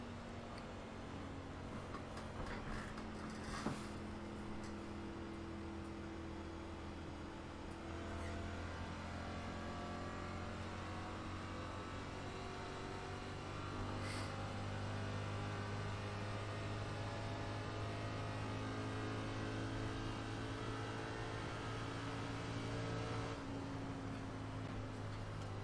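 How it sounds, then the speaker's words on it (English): A NASCAR Cup Series race car in the iRacing game at Daytona holds a steady, loud engine drone throughout, with the crackle and pop of backfire on throttle lift blended into the continuous roar. "You just let off the throttle and you just hear it crackle and pop all the way down the back straight from any sort of RPM."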